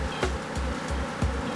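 A swarm of aggressive killer bees buzzes continuously at close range, with rhythmic low thumps underneath, during a hive removal; no one speaks.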